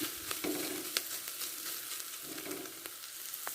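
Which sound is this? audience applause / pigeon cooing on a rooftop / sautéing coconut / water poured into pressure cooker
sautéing coconut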